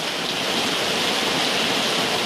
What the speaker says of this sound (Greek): Η βροχή είναι πάρα πολύ έντονη